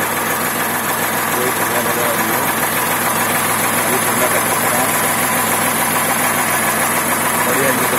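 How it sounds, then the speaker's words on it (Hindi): An Eicher 485 tractor from 2010 idles with its diesel engine, a steady, close, knocking rumble that runs without a break while someone talks over it. "स्टार्ट हो गया ट्रैक्टर"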